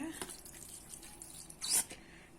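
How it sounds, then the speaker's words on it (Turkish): Polish liquid is poured over cutlery being cleaned in a home kitchen: a brief, faint liquid splash and trickle, with a louder wet burst near the end. "Şöyle bir de parlatıcıdan da az dökelim."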